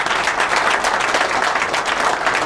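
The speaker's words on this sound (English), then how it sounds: "Is that applause for 50 run?" Audience applause breaks out at a 1995 straight pool match, steady dense clapping that fills the hall and keeps an even level throughout.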